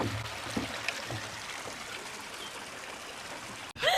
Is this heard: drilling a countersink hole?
no